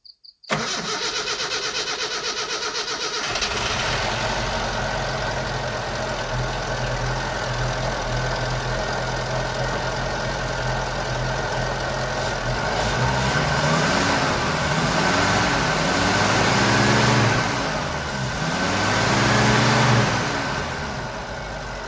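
A CNG-converted car with a cold engine and cold gas tank cranks briefly, then catches and settles into a steady loud idle, with a few revving surges toward the end.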